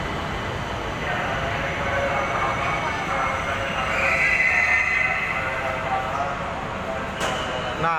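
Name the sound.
commuter train arriving at station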